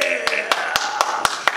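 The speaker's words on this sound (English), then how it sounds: "give yourself a big clap" Children in a kids' music class clap together in a steady, even beat, roughly four sharp claps per second, over a voice and background sound.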